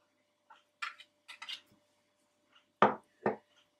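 Spoon clinks and scrapes inside a bowl as bread pizza topping ingredients are mixed with curd, about half a dozen short, sharp knocks in irregular bursts against near silence.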